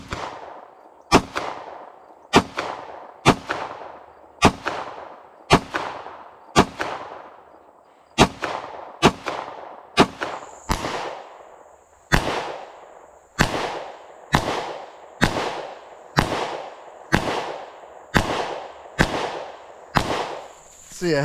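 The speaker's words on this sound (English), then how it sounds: "see if we can get some accurate shots in less than 15 seconds" A steady string of about seventeen sharp gunshots fired in rapid succession at targets 40 yards away, each loud crack followed by a short ringing decay, with faint metallic pings of steel targets being hit in the later shots.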